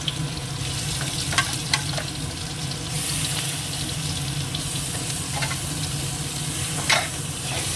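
Spice paste frying with browned potatoes in a pan, giving a steady, close sizzle with scraping stir sounds and brief clinks, with no talk.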